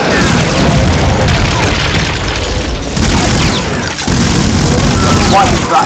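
Explosions and bomb blasts in the video game Brutal Doom, a dense, continuous roar of booming detonations and bursts running loud throughout, with no spoken words.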